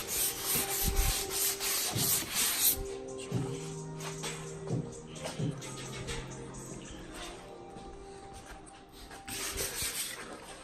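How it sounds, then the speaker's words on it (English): A new car front bumper is sanded by hand, with close rhythmic rasping strokes that come in bursts, pause, and resume, and faint background noise between strokes. "Sanding my new front bumper."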